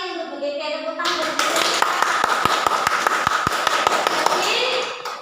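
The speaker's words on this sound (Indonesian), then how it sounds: "Tepuk tangan." A group claps hands during a teacher training session on positive school culture, several sharp claps ringing over a speaking voice and a sustained background tone.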